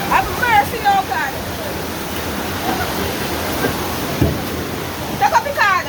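Floodwater rushes during heavy rain flooding in Jamaica as a loud, constant roar of water, while distressed voices call out over it near the start and the end.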